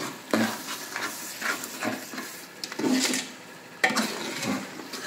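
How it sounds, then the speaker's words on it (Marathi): Soybean chunks are stirred into spicy masala rice for a Navratri festival dish, giving soft scraping and clattering strokes in irregular bursts with a faint sizzle, close by and without talk. "सोयाबीनच्या वड्या मिक्स करताना"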